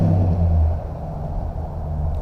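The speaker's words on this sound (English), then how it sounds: "That's a UPS truck in the background." A UPS delivery truck rumbles past in the background outdoors, a steady low engine drone that is strongest at first and eases slightly, heard alone without talk.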